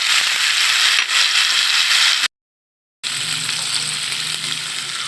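Chepa shutki (fermented dried fish) mixed with turmeric and chili powder sizzles in a frying pan for a kochur loti dish, a steady loud hiss of hot oil that cuts out briefly mid-way and then resumes with faint utensil scraping.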